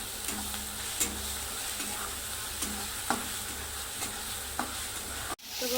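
Ground chilli paste frying in a pan for chavlichi bhaji, a soft steady sizzle under repeated light scraping strokes of a spoon, ending in a sharp clatter.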